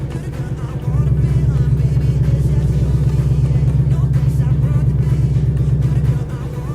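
A 2018-2023 Ford Mustang's active exhaust rumbles loudly at idle, a deep throbbing drone that swells after a second and holds steady before dropping back.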